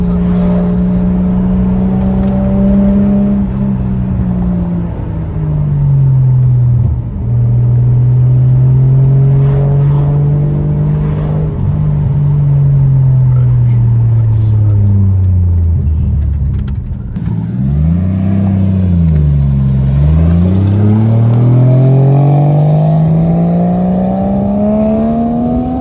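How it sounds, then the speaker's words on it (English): A Nissan R33 engine idles roughly near the microphone, its pitch wavering as the throttle is blipped. Then come several sharper revs that rise and fall before it settles back, with no voices. "The car's definitely running way better than it was previously."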